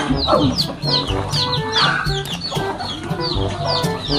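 Chickens cluck steadily and busily close by, with a rooster's clucks mixed into the continuous flock chatter.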